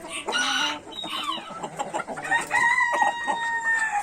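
A rooster crows loudly and close by, with clucking hens and other fowl calling around it.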